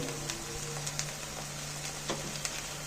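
Soft, steady sizzle of palak paneer ingredients frying in a pan with turmeric, with faint stirring clicks and small pops, fairly quiet and close, no voices.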